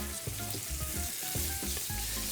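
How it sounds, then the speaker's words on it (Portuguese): Pork tail sears in olive oil in a large pan, a steady close sizzle and crackle of frying for a couple of seconds, with no talking. "Agora, eu vou adicionar mais um pouquinho de azeite no nosso fogo e selar o rabo."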